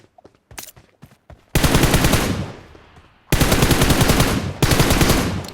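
Rapid automatic gunfire in a video game: a few scattered single shots, then two long loud bursts with a short break, ending in another sharp volley.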